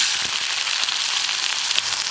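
Onion sizzles as it goes into hot coconut oil with popping mustard seeds for a Kerala ridge gourd stir fry, a loud, continuous hiss with scattered crackles and no talking.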